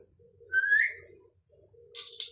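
A lovebird gives a brief rising whistle-like chirp, then a second fainter chirp, clear and close against a quiet background.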